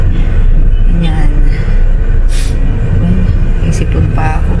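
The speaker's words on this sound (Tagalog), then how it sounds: "Grabe traffic dito. Lalo na maliit ang kalye." A low, constant rumble of slow street traffic with tricycles and jeeps in a narrow street, engines idling and passing close by, heard under steady talking.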